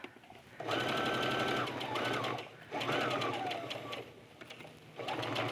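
Sewing machine stitching a burrito seam, running in two long steady bursts with a short pause between, then starting again at the end, loud and close with no talking.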